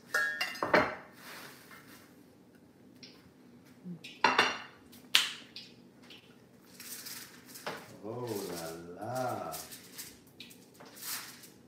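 Cutlery clinks and scrapes against a bowl as pepper and salt are mixed in, a few sharp clatters among quieter stirring. A voice speaks in between.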